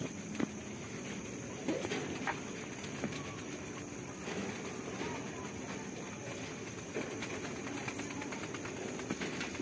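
Pigeons cooing at night in a loft, soft low coos and faint bird calls set against a constant background hiss and rumble, moderately distant, with no clear talk.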